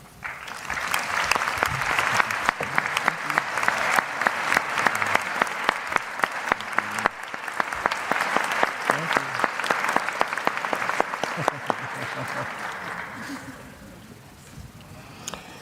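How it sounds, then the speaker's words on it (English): Loud, sustained audience applause fills a college commencement ceremony at Jackson College, a dense wash of clapping from a large crowd that holds steady before tapering off near the end. "please join me in saluting our Jackson College employees with a round of applause"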